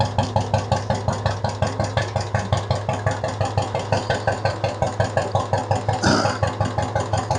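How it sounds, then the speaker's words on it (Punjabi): Kick-started motorcycle engine idling after starting on the first kick, a steady, evenly pulsing thump-thump that is loud and close, with a brief clank near the end. "ਪਹਿਲੀ ਕਿੱਕ ਤੇ ਸਟਾਰਟ ਆ"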